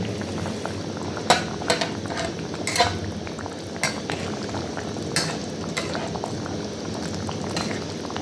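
Fish curry of rupchand fish seasoned with cumin and coriander boils steadily in a pan, a constant close bubbling with scattered sharper pops and a few light clinks of utensils, no voices.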